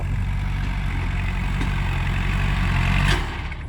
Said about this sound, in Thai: จ้างมาขับรถไถ